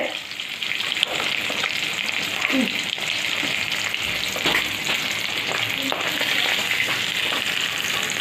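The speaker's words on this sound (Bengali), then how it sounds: "সব ফুটছে মাছ।" Fish simmers and sizzles in a pan for a sour fish curry, a steady dense crackle of hot oil lasting throughout, with a few faint clinks and background household sounds.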